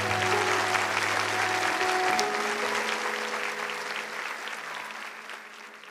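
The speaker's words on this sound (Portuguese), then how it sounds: "Vamos aplaudir essa mãe querida." Audience applause in a religious gathering, a steady wash of many hands clapping that starts strong and slowly fades as it continues.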